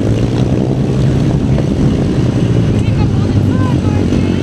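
Steady propeller drone of a warbird aircraft flying at the Flying Legends airshow, a continuous loud engine roar throughout, with faint tonal whines sweeping near the end and talk blending in.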